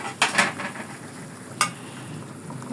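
Chicken fries in a pan with a low, steady sizzle, and a couple of sharp utensil or pan clinks ring close by. No one talks.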